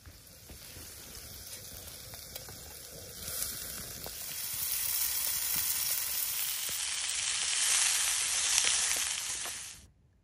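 Burgers sizzling in a frying pan over an open campfire, a steady crackling hiss that swells louder midway and holds before cutting off abruptly near the end.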